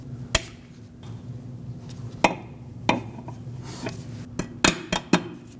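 Sharp metallic taps and clanks ring out at irregular intervals while a retaining clip is bent over on a front strut of a 2006–2015 Lexus IS250, several close hits clustered near the end.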